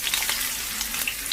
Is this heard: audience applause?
no